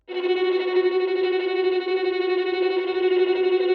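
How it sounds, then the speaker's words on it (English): A steady, buzzing synthetic tone with a harsh, effected timbre holds for several seconds, a tremolo rendered by MuseScore 4 notation software, a faint low pulse ticking beneath it at a regular rhythm. "And this tremolo, which is meant to sound like this"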